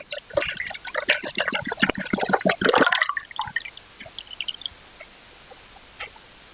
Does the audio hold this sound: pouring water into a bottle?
yes